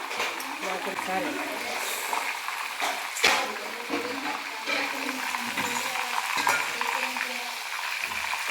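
Chicken pieces sizzling and being stirred into a masala in a pan for chicken biryani, a steady close frying hiss with scraping stirs and a sharp clatter near the middle, while a voice talks over it.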